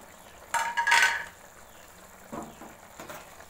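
A spoon mixing turmeric, white pepper and garam masala into green chicken in a karahi, giving one loud metallic scrape and clatter followed by a few softer, closer clinks of utensil against the pan.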